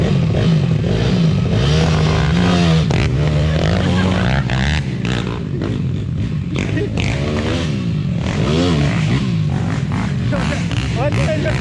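A YCF 190 pit bike revs and races, engine pitch sweeping up and down in repeated bursts, close and loud, with people talking over it.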